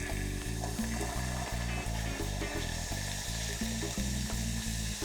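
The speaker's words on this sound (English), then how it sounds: "I'm going to add my pear juice, and it's gonna splatter just a little bit" Pear juice poured into hot liquefied caramel, steady sizzling and splattering close up with an underlying rhythmic pulsing hum, no voices.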